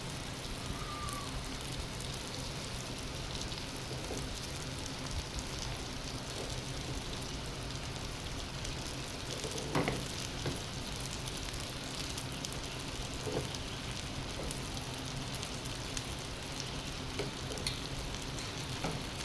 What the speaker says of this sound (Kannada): ಇದು ಫ್ರೈ ಮಾಡ್ಕೊಳ್ಳೋಣ ಇದರಲ್ಲೇ